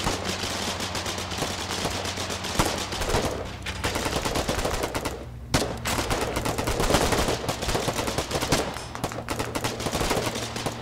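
Rapid gunfire crackles in the war game Foxhole, dense bursts of shots layered over a constant low battlefield rumble, with a brief lull midway.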